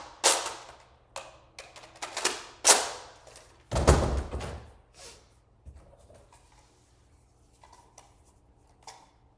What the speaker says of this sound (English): Now let's load up the other 6-round magazine that's included with the blaster.